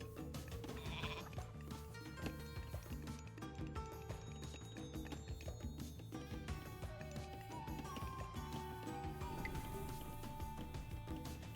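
Flock of sheep bleating in Age of Mythology, recurring bleats scattered over a continuous bed of game music and ambient sound, no voices.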